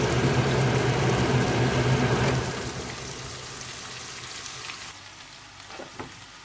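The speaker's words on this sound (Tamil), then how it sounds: "இஞ்சி எல்லாத்தையும் இதில் போட்டு வதங்க விடுவோம்" Ginger with salt sautéing in a pan, heard as a loud, dense sizzle that eases after a couple of seconds into a quieter crackle, with no talking.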